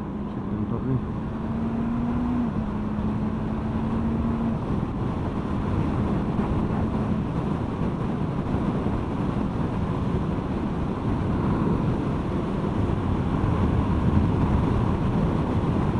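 Steady, loud wind roar buffets a Shoei NXR helmet on a moving motorcycle ridden without earplugs, a dense continuous rush with a faint engine hum underneath and a brief tonal whine early on.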